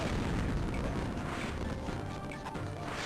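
Explosions in the Samurai Jack: The Amulet of Time video game rumble on loud and dense, a steady wall of booming blasts and crashes throughout.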